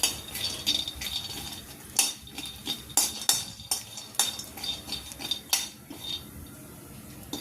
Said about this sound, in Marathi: शेंगदाणे ही खरपूस भाजून घ्यावे.